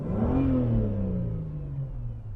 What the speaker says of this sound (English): a very purposeful sounding engine